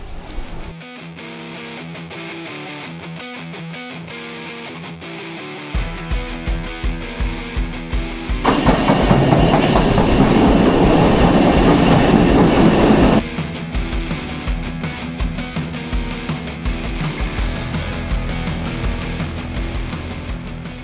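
A metro train rumbles along with rhythmic clatter, swelling into a louder roaring stretch midway before settling back to a steady rolling noise.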